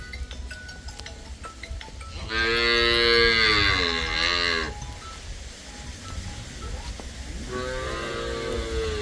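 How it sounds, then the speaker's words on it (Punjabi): A cow moos loudly and close by, one long drawn-out low call, followed a few seconds later by a second, shorter moo over quiet background. "ਬੜੀ ਪਿਆਰੀ ਜੀ ਗਾਂ ਆ"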